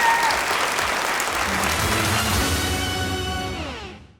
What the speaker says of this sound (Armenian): Ծափարենք Նարա Բաբայան